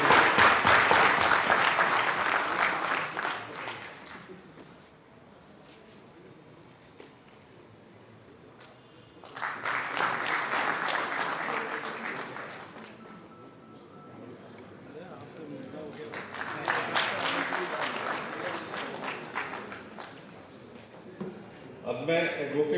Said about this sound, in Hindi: ठंड का मौसम में ताली तो होनी चाहिए।